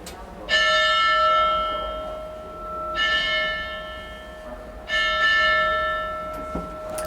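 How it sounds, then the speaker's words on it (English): A steam locomotive's clear bell rings three times at a steady, unhurried pace, each strike bright and sustained with a long ringing decay, close by and loud. "And this is the bell. Listen."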